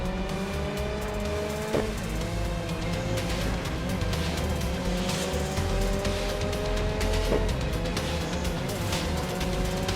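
Racing cars in the Grid Legends mobile game keep up a steady, dense engine roar, with a couple of brief sharper bursts over the continuous noise and no talk.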